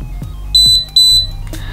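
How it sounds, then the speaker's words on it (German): Acetech Blaster tracer unit, an airsoft muzzle flash device, gives two short high electronic beeps in quick succession, loud and close, with faint clicks from the button around them. "So, wenn ich jetzt drücke, bekomme ich jetzt zweimal einen Piepton."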